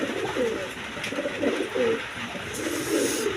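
Pigeons at a bird market, including Bombay breed birds, coo in repeated low, throaty phrases, close and clear over background murmur.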